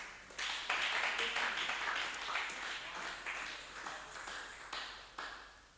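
A church congregation applauds after a Bible reading, a warm burst of many hands clapping in a hall that swells quickly and slowly tapers over several seconds.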